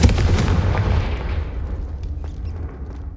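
A Confringo blasting spell is cast in the Hogwarts Legacy video game, landing as a loud, close explosive boom that rolls into a decaying rumble over about three seconds.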